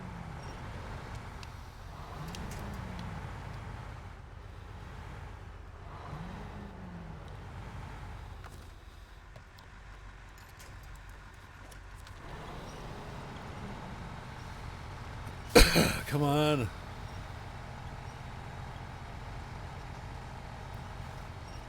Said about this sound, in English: I'm just trying to get that truck unwedged if I can